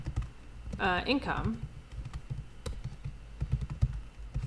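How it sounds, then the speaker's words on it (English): Computer keyboard typing during a statistics lesson, a steady patter of keystrokes throughout, briefly overlapped by a single spoken word near the start. "typing is hard on a Friday"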